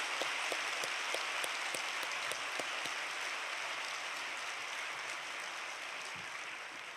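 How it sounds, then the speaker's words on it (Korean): A church congregation at a special year-end dawn service applauds together, a dense, steady wash of clapping heard from a distance that slowly fades. "한번 박수 한번 치겠습니다."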